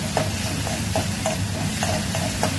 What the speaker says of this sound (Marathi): यात घालायचा कांदा. पहिला थोडा हे परतून घ्यायचं.